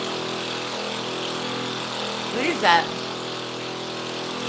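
A mini bike engine runs continuously with a rough, rattling drone like a jackhammer. A voice briefly speaks over it partway through.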